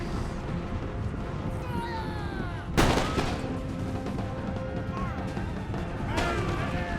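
Lines of musket infantry fire volleys in the Empire: Total War battle game: a sharp, loud crack of massed gunfire stands out over a steady battlefield din, followed a few seconds later by another, softer volley.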